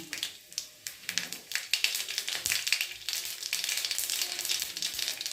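Dried red chillies and mustard seeds frying in hot tempering oil for a greens dish, a dense crackling sizzle full of rapid pops and spits that grows steadier and louder, close up.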